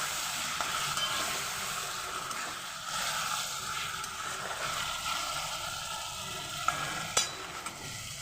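Chicken fries hard in oil before spice paste goes in, a dense steady sizzle with soft stirring movement and a few sharp clinks near the end.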